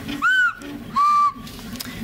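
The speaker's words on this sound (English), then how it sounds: "a little whistle that has like 3 whistles together, so you can create your own, and you can blow it" A small 3D-printed whistle with three whistle chambers joined together, blown in two separate short blasts giving a clear, bright tone with overtones, close to the microphone over faint room noise.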